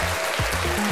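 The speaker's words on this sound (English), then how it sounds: "I really like the applause as well" Short canned applause effect from a Tascam MiNiSTUDIO Creator US 42B broadcast audio interface, a brief burst of clapping and cheering lasting about a second, loud and close.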